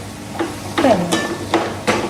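A spatula scrapes and knocks against a pan as food is stirred, four or five separate clinking strokes over a low steady frying sizzle, close and fairly loud.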